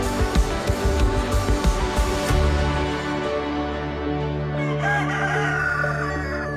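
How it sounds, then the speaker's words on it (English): After a few seconds of rhythmic background noise, a rooster lets out a long, loud crow that carries on steadily to the end. "I just heard the rooster."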